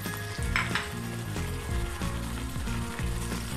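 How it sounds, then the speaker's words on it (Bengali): Spices with ginger and garlic paste frying in a pan, a close, steady sizzle with a repeating stirring rhythm and a faint tonal hum underneath, without speech. "মশলাগুলোকে ভালোভাবে কষিয়ে নিচ্ছি"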